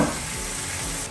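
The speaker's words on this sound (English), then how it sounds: "I'm going to cook this down just a little bit to start breaking down the apples." Onions and apples cooking down in a pan, a close, steady sizzle of frying with faint stirring, alone and without voices.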